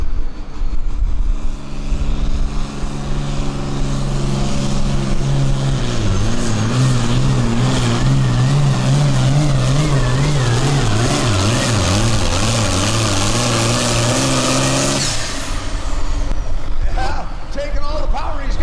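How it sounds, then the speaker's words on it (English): A John Deere 5010 pulling tractor roars at full power throughout a long pull, its engine note rising and wavering steadily before cutting off abruptly near the end. An announcer talks over the engine. "Beautiful 5010 John Deere."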